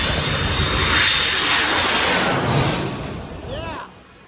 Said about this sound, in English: Got to see the airplanes come in very close to our heads